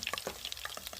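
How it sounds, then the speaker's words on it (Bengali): Paneer fries in oil until lightly browned, with quick crackling pops and spatula scrapes in a short, busy burst close to the pan. "পনিরটা এরকম হালকাভাবে লাল লাল করে ভেজে নেব"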